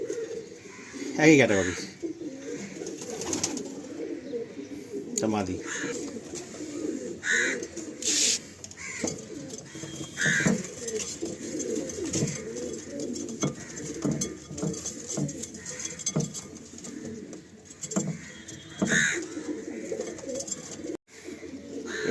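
Pigeons in a loft of red-headed (lalshira) birds coo softly and steadily under close conversation, with occasional wing patter and clattering sounds scattered through.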